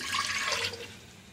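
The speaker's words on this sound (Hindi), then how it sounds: "शीरे में आधा कप पानी" Water is poured into a pan to start a sugar syrup, half a cup going in as a brief, close splashing stream that tapers off after about a second.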